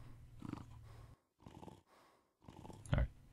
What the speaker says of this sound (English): Just gonna let you guys listen to this snoring for a little bit.